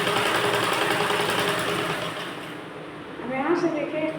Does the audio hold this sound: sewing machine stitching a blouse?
yes